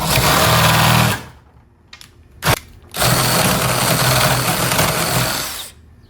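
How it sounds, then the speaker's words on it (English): A power drill bores a 1-inch latch hole through the edge of a door, whirring loudly for about a second, pausing with a brief burst, then grinding steadily for several seconds before stopping. "We have to make this hole for the latch right here, and this is 1 inch, so I'm gonna make it now."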